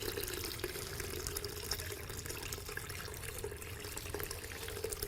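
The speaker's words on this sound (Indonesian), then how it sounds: "ketika kita mencuci, ini biarkan airnya mengalir dulu" Tap water runs continuously over freshly cut leaves being washed, a steady close splashing and gurgling flow with no pauses or talk.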